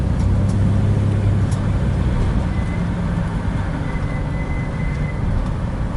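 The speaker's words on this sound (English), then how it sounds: "this is city traffic" Steady broadband road roar of city traffic heard from inside a moving vehicle, a continuous low rumble with no distinct pass-bys, loud and close.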